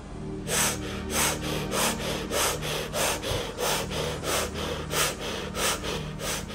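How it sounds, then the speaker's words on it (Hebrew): Rapid, forceful breaths through the mouth during a guided breathing exercise, a steady rhythm of about a dozen loud, close huffs with no talking. "ואנחנו נמשיך עם 15 נשימות מהירות מהפה"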